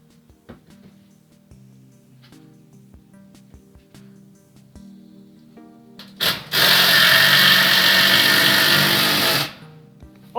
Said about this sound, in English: I am drilling my board that Carolyn's going to hang her pots